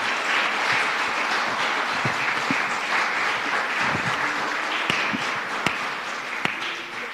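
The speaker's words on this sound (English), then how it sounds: "a big round of applause for all 6 speakers." A debate audience in a hall gives sustained, dense applause that stays steady for several seconds, with a few sharper individual claps standing out.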